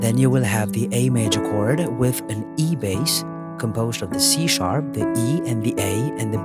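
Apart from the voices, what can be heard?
No everyday noise stands out behind the speech.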